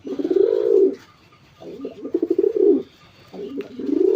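Dhamasin pigeons coo close by in three rounded, throaty bursts separated by short pauses, with no voices.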